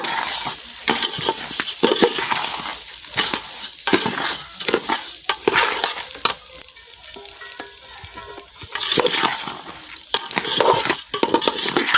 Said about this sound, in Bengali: চালটা ভাজা করে নেবো